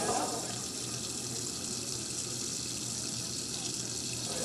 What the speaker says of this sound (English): Now I'm talking while the water is still on in the restroom.